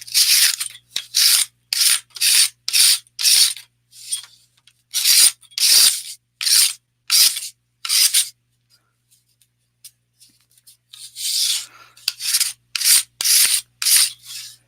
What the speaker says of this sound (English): I use a metal roller and just scrape it off.